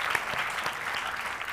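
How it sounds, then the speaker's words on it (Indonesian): A studio audience claps in a short, dense burst of applause that stays steady and fairly loud throughout. "Tepuk tangan buat semangatnya, terima kasih."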